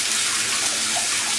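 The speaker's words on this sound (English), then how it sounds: "I gotta go rinse my hands." A kitchen tap runs steadily for hand rinsing, a continuous close hiss of gushing water with no talking.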